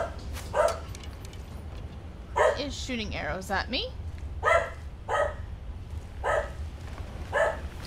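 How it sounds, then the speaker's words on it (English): A real dog barks in the background during Skyrim gameplay: about six sharp barks at irregular intervals, moderately distant, mixed with a voice talking and game sounds. "Excuse the dog in the background."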